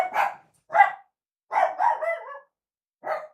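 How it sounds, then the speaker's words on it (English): Dogs bark indoors in a home, five sharp separate barks spaced by short silences, close and fairly loud, with no talk over them. "Can you hear my dogs"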